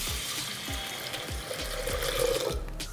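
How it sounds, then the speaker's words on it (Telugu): Rice is washed in water with soft, repeated swishing and sloshing that stays close and fairly quiet, and a brief trickle of water near the end. No one speaks. "ఇప్పుడు ఇందులో మనం వాటర్ పోసుకొని బాగా క్లీన్ చేసేసుకుందాం"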